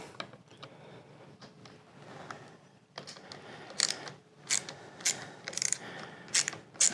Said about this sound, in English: this is a T10 Torx screw. So let's just take that out.